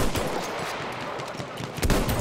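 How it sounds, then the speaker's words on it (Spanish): Enemy machine gun fire in the Battlefield 1 war game crackles in loud, close, rapid bursts, with a heavier volley toward the end. "Una ametralladora enemiga."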